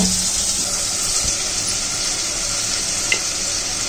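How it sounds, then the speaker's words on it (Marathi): Tomatoes sizzle as they go into a hot pan, a steady broadband frying hiss holding evenly throughout with a few faint stirring knocks and a brief clink near the end. "तर आता मी टमाटर टाकते।"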